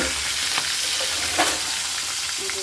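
Shrimp seasoned with salt and turmeric sizzling in hot oil for a shrimp and taro-leaf curry, a continuous close, fairly loud hiss with a few brief spatters and light stirring.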